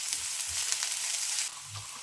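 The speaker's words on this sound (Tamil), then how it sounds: "இப்போ இதை வெங்காயம் அரைவாசி வதங்கும் வரையும் வதக்கி கொள்ளுங்க." Chopped onions with broken green chilli sauté in a pan while cooking moong dal fry, a steady crackling sizzle close by with occasional stirring scrapes and a slight drop in intensity partway through.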